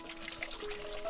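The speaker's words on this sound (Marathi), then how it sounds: "कमी झाले पाणी पण पाणी चालू आहे" Spring water in a forest trickles and pours steadily, a faint, continuous gentle flow with no voices.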